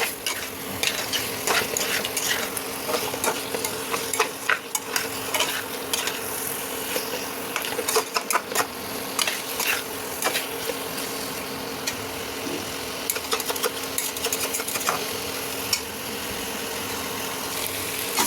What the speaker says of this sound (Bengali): বেগুনগুলো দিয়ে হালকা করে একটু কষে নেবো